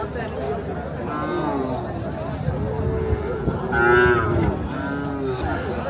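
Several cattle moo at a busy outdoor cattle market in Kalaiya ahead of Eid al-Adha, one louder call near the middle, over steady crowd chatter and background noise.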